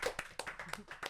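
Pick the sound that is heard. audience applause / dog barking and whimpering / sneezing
audience applause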